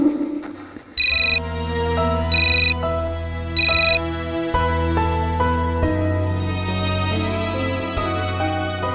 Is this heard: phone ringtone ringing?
yes